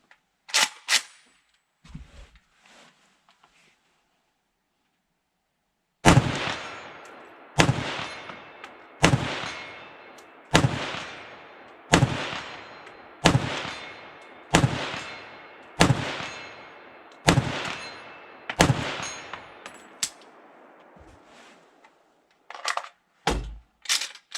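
An M+M M10 Romanian AK rifle fires cheap Tula ammunition outdoors at a 100-yard target: a few scattered shots, then about ten loud, sharp reports in a steady, evenly spaced rhythm, each with a short echoing tail.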